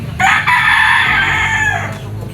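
A three-year-old RRCN line broodcock crows once, loud and close, holding a long strained call in a backyard breeding yard in Lipa, Batangas.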